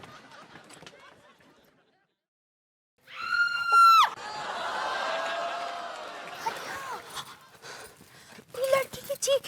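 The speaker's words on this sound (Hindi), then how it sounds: "ये लड़की की चीख है।" A girl's piercing scream rings out abruptly after a moment of silence, high and strained for about a second, followed by a sustained wail and agitated shouting in an indoor household scene.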